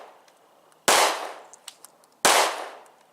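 Two sharp, loud gunshots about a second and a half apart at an outdoor shooting range, fired from handloaded reload ammunition slightly hotter than factory loads, each blast trailing off with a decaying echo.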